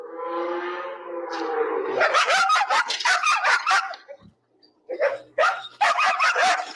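Dogs give a drawn-out whining howl and then a rapid run of sharp barks that pause briefly before starting again.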